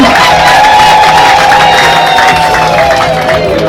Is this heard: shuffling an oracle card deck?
no